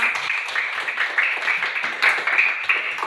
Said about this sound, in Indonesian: Mari kita berikan semangatnya, tepuk tangannya